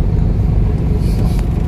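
Road traffic is heard from inside a moving car on the way to the airport: a loud, steady low rumble of engine and road noise with no clear talk.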